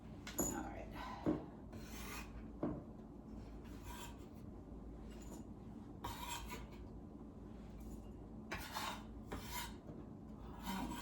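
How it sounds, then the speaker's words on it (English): A knife rough-chops chocolate chips on a cutting board in a home kitchen: close, rasping cuts in irregular bursts, with quieter pauses between strokes and no talking. "just want to rough chop because it's just to coat and we want a nice hearty coating"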